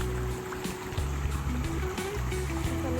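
Water splashing and trickling steadily while muddy feet are washed at an outdoor spot in a Konkan village, a continuous close wet wash.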